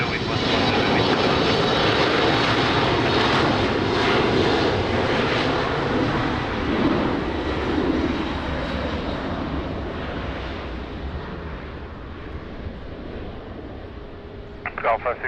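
An airliner's engines roar at Lisbon Airport on a rainy morning, a loud sustained rumble that slowly fades as the aircraft moves away, with radio chatter faintly beneath.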